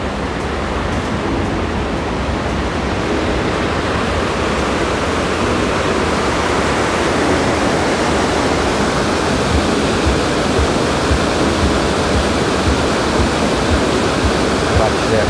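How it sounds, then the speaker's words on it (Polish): Loud, steady roar of rushing water at Loch Katrine in Stirlingshire, a dense broadband wash that stays close and constant throughout with no pauses. "Zobaczcie, jak ta woda daje."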